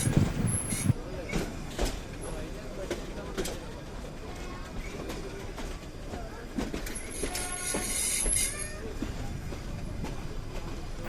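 The Nilgiri Mountain toy train runs between Ooty and Ketti, its carriages rattling and clattering steadily with sharp wheel clicks and a brief high squeal near the end, while passengers talk over the running noise.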